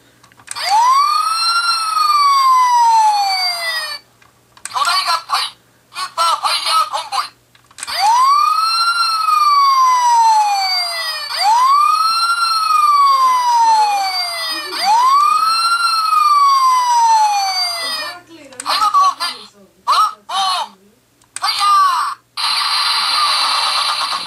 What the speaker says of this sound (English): Press this button on top, and you hear Fire Convoy.